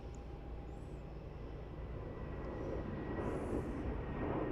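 An Airbus A320neo rolls down runway 16 on takeoff at Melbourne Airport, a steady distant jet roar that swells gradually louder over several seconds, with no voices.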